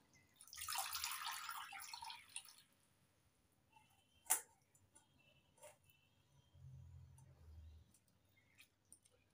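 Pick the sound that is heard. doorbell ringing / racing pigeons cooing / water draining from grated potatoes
water draining from grated potatoes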